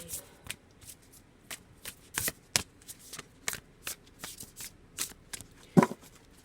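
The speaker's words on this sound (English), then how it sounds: "Just wanted a few more shuffles." Tarot cards being shuffled in a quiet room, a run of crisp riffling bursts and soft slaps repeating at an irregular pace, close and fairly quiet, with no talking.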